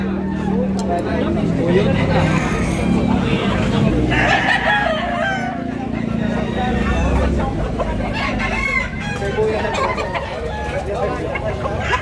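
Roosters and hens at a Tabunok, Cebu market crowing and clucking repeatedly amid crowd chatter, a steady noisy mix with people talking over it.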